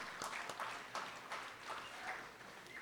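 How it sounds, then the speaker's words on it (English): An audience at a talk on MLK, Trayvon and racism applauds, a soft, distant patter of many hands clapping steadily throughout with no speech over it. "Please give them a round of applause."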